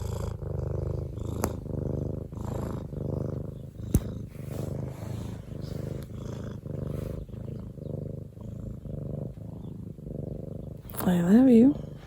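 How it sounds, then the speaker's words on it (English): A recorded cat purr plays from a phone speaker, a low rhythmic rumble that pulses steadily and sits close. A voice speaks softly over it, and a brief higher tonal sound rises near the end. "Purr machine? Oh yeah, just purr up on my phone."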